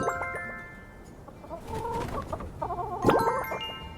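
Hens clucking in the My Time At Sandrock video game, a few short clucks and chattering calls close by, ending in a sharper louder squawk, over a faint background hum.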